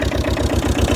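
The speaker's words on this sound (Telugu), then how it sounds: "స్టార్ట్ చేయండి ఒకసారి, స్టార్ట్ చేయండి. ఇంజన్ కూడా బాగుందండి." A 2017 Tata Ace HD light truck's diesel engine idles close by with a steady, rapid chugging pulse, loud and even, with no voices over it.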